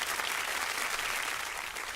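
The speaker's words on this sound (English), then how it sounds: "Can we get some applause," Audience applause at a community youth conversation event, a sustained, dense burst of clapping from many hands that holds steady for the whole moment.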